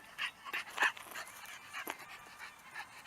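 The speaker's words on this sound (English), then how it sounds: "I decided to show my dog." A dog makes short, high-pitched whimpering and panting sounds in scattered bursts, close by, with no talking.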